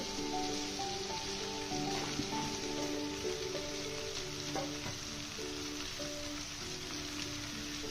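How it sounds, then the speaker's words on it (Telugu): Cut okra pieces fry in hot oil, a dense, steady close sizzle with crackling pops running throughout. "ఇప్పుడు ఆయిల్ బాగా వేడైన తర్వాత మనం కట్ చేసి పెట్టుకున్న బెండకాయ ముక్కల్ని ఈ ఆయిల్లో వేసేసుకోవాలి"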